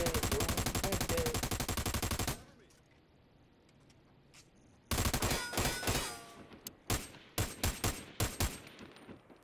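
Automatic and rapid gunfire in the online military shooter America's Army, a loud sustained burst followed by a quiet gap, then repeated sharp bursts and single shots close by.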